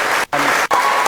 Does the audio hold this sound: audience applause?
yes